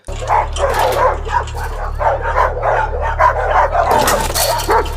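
A dog barks and yips excitedly in rapid bursts, loud and close, with a steady low hum running underneath.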